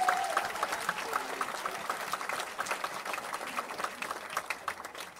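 Church congregation applauding to acclaim Jesus at a revival service in Evry: sustained dense clapping from a crowd, fairly distant and steady, mixed with murmuring voices.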